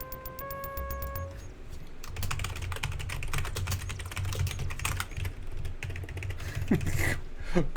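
Rapid, steady typing on a computer keyboard clicks close by for several seconds after a brief tone, with a faint low hum underneath.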